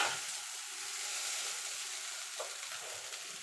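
Egg chowmein sizzling in a pan with vinegar and soy sauce while being stirred, a quiet, steady hiss with a faint scrape or two, heard close and alone.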